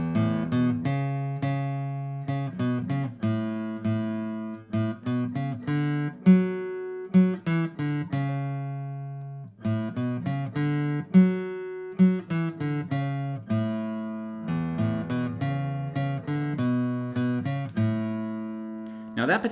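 Acoustic guitar picks out a melody an octave lower on the fretboard, single notes ringing clearly with short pauses between phrases, close and alone with no voice.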